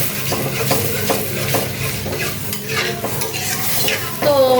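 Spices such as turmeric and dried chilli powder cook in a pan for a lentil dish, stirred continuously with a spoon that scrapes and clinks against the metal over a bright sizzle, close, loud and steady throughout.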